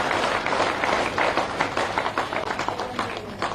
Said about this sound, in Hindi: भाई लाल सिंह आर्य जी, ताली बजा के स्वागत कीजिए